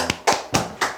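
A small seminar audience claps in a few sharp, separate bursts, about four distinct claps spaced roughly a quarter second apart, close and fairly loud with no talking.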